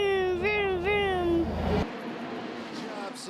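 A voice makes a rising and falling IndyCar engine imitation with wavering pitch, followed by faint background noise.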